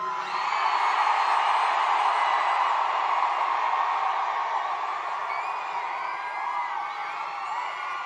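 A large political rally crowd for Bernie Sanders cheers and whoops continuously, a loud dense roar of many voices that swells early and then holds, slowly easing.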